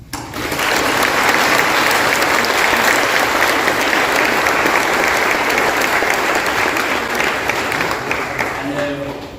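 A graduation ceremony crowd gives the Class of 2025 sustained applause, dense loud clapping from many people that holds steady for nearly ten seconds before fading, with a voice emerging faintly near the end.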